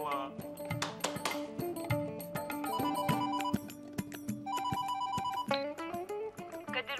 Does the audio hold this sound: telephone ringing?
yes